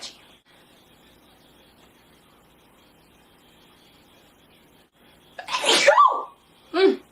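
After a long near-silent wait, a person lets out one sharp, loud allergy sneeze, followed moments later by a shorter second burst close to the microphone.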